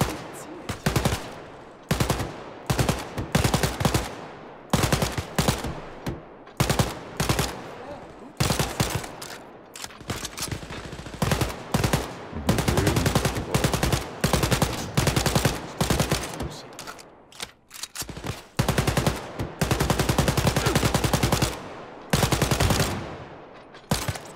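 Rapid machine-gun bursts and gunfire from the shooter game Wolfenstein: Youngblood, loud and close, coming in repeated stuttering volleys with short pauses over about twenty seconds, with occasional faint voices underneath.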